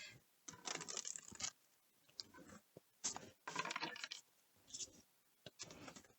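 Tarot cards being shuffled by hand, several short crisp bursts of riffling and patter separated by pauses, close and faint, with no talk.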